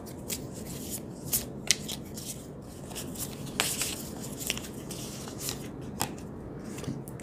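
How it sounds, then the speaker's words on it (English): Tarot cards being shuffled and drawn during a Sagittarius reading, with a soft continuous riffling texture and scattered sharp card snaps and flicks throughout, fairly quiet with no talking. "Let me pull additional cards for you"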